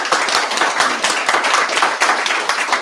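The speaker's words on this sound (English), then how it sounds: "Once again, round of applause." A round of applause from an audience at a graduation showcase, quick, dense clapping from many hands, close and lively, carrying on steadily for a few seconds.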